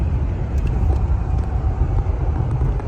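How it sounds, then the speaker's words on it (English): A 1972 Ford Thunderbird under way, its V8 giving a close, steady low rumble mixed with road and tire noise, with no voices. "You can see we're accelerating here, and the car accelerates nicely, stops nicely, drives and steers nicely."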